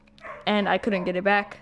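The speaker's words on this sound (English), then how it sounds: "Excuse the dog barking." A dog barks indoors in two short, sharp bursts close to the microphone, overlapping a voice speaking in the foreground.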